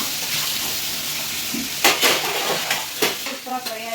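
Garlic sizzles in hot oil in a pan while a spoon stirs it, with close, crackling frying and a few sharp scraping strokes against the metal.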